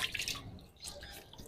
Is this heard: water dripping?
yes